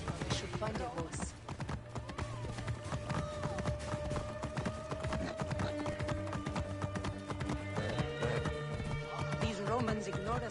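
Horse galloping in the video game Assassin's Creed Origins, a rapid repeated clatter of hooves running on beneath game music and talking voices, with a brief whinny near the start.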